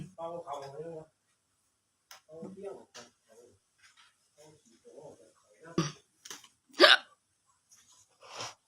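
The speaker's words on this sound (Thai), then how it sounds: "โอ้สะอึก" A person hiccups, sharp abrupt bursts standing out near the end among scattered quieter voiced sounds, close to the microphone, with talk heard earlier.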